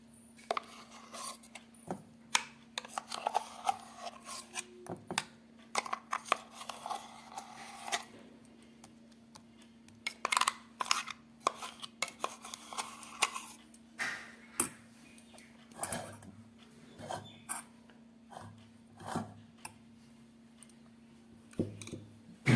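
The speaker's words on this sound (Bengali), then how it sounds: "ডালটা খুব ভালো করে মিক্সির জার থেকে বের করে নিয়েছি" A spoon scrapes ground urad dal paste out of a mixer-grinder jar, making scattered rasping strokes and light ticking knocks against the jar. The sounds are quiet, close and come in irregular bursts with pauses between them.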